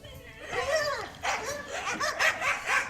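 Dogs bark close by in a quick series of sharp, whining yips and barks, loud and repeated in uneven bursts.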